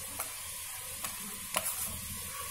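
A ginger, garlic, coriander and cumin paste fries in a pan for chicken biryani, giving a soft steady sizzle broken by a few light spoon taps and scrapes, with no voices.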